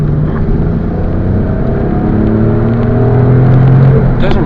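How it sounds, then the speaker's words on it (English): A 2008 Alfa Romeo Brera 3.2 engine drones loudly as the car pulls away, a steady low rumble that rises gradually in pitch, with no talking. "When you pull off, it does sound a bit like a 911."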